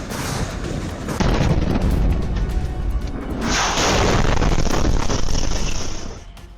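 Artillery cannon fire in the Russia-Ukraine war, a sustained roar of heavy booming and rumbling blasts that swells loudly midway and then tails off, with no voices.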